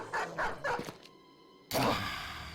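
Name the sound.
dogs released and barking in video game Battle Brothers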